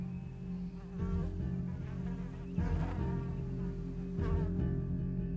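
Mosquitoes and other insects drone and buzz continuously at close range, a steady whine with a few swells in loudness and no voices.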